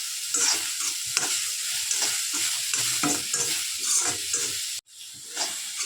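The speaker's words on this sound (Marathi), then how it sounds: "लोखंडी कडे त्यामुळं खाली लागू शकतं सारखं सारखं हलव मिक्स करावं लागेल मला" Fresh coconut and jaggery modak filling is stirred steadily in an iron kadhai, a loud continuous sizzle and hiss with repeated scraping strokes of the spoon, briefly dropping out near the end.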